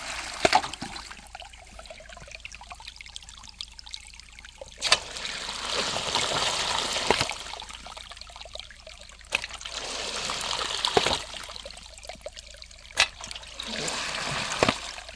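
Water from a non-powered water ram pump splashes and trickles continuously at close range, swelling and easing in waves with periodic sharp knocks from the pump valve.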